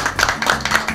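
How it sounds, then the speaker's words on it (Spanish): An audience claps along in quick, rhythmic bursts at an outdoor neighborhood music taping in Santa Lucía, close and fairly loud over a brief second. "un aplauso"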